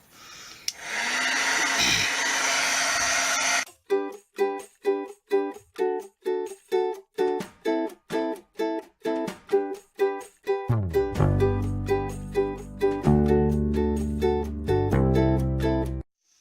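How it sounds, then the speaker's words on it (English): An embossing heat gun blows a steady, loud whooshing hiss for a few seconds while melting embossing powder on a Christmas tag, then cuts off and gives way to a rhythmic melodic music track. "embossing heat tool. Now, when you use this, you kind of want it to heat up first, and then it'll be easier to melt the powder."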